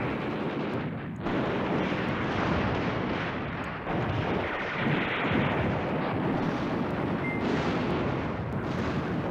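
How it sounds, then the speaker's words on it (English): Bombard artillery firing in the wargame Command Ops 2, heard as dense, continuous rumbling gunfire and booming explosions that stay loud throughout with no talking. "And this bombard artillery as well."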